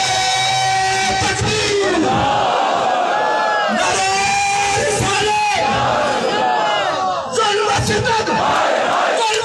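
A large protest crowd at a sit-in on the streets of Kotli chants slogans together, loud and sustained, with rising and falling group shouts in repeated waves across the whole stretch.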